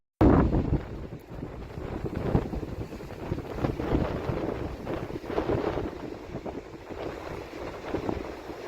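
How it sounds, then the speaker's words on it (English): Wind buffeting an outdoor microphone during a walk through Dotonbori in Osaka: a continuous low rumbling roar with uneven gusts, fairly faint overall. "There's wind."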